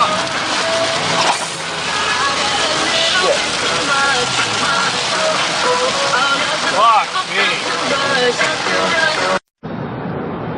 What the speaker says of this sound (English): That's a lot of fucking rain.